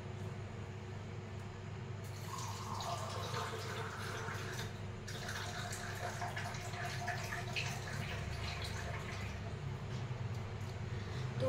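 Water streams into a container holding chia seeds and flaxseeds, a quiet, close trickling and splashing pour that starts after a short pause and runs on with slight surges.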